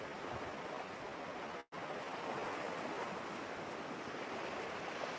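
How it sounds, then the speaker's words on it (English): Ocean waves wash steadily onto sand in a continuous broadband surf roar, close and full, with one brief dropout midway and no voices. "the hypnotizing, enticing waves washing on the sand and then receding back toward the ocean"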